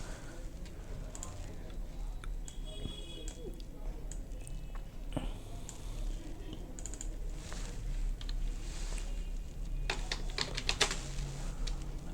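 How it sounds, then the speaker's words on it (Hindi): Someone types a name on a computer keyboard while working in CorelDraw X7. Soft, irregular key clicks patter continuously under a low background hum. "और यहाँ पे हम नाम लिख देते हैं, इसका नाम लिख देते हैं प्रिया।"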